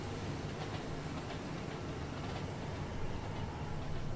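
A model train runs across the Four Arch Viaduct near Newton Station in the Rolling Line railway game, giving a steady rumble with faint clickety-clack throughout, continuous and fairly close, with no voices.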